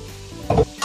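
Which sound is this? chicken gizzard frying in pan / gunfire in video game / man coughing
chicken gizzard frying in pan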